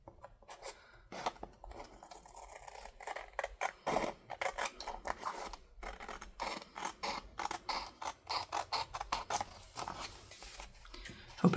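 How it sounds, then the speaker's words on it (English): Repeated crisp snips of scissors cutting through paper, coming in quick irregular bursts close by with brief pauses between cuts. "take a pair of my scissors and just trim around these edges"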